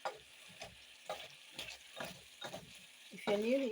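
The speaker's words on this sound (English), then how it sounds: "I'm just turning so that all my onions get cooked well." Onions sizzle and fry in a pan with chicken while a spoon scrapes and stirs in a steady repeating rhythm, getting louder at the end.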